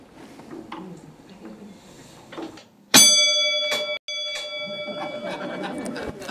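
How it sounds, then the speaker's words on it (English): Old doorbell taken from the Lewis-Syford House, a bright metallic ring struck once and left to sustain for about a second, then struck again and ringing on, loud and close, with murmuring room voices before it. "This is the doorbell off the house."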